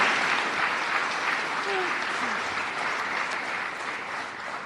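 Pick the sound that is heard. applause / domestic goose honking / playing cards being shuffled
applause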